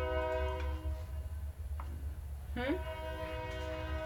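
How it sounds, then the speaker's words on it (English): A toy train in a fairy garden candle holder scene, heard as a faint horn-like tone with harmonic bands and a brief rising whistle partway through, over a steady low background hum. "And a train, of course."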